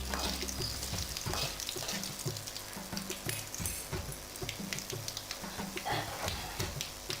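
Urad dal and dried red chillies spluttering in hot oil, with rapid irregular crackles and pops over a steady sizzle, close and clear with a rhythmic low thumping underneath.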